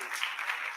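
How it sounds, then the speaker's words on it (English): A church congregation at a Lutheran Sunday worship service claps briefly, a short burst of fairly soft, even applause. "they too deserve a round of applause"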